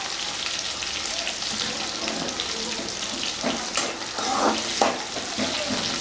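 Garlic sautéing in a pan for a Tamil-style tamarind curry, a steady broadband sizzle with faint stirring scrapes near the end, no voices.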